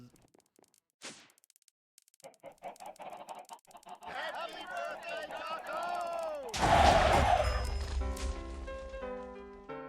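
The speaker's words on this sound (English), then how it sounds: "That was all the chickens cheering for Dark Osto's birthday." Minecraft chickens in an ATM10 modpack world cluck in a rising, overlapping flurry, growing louder and busier, with a burst of crackling pops toward the end.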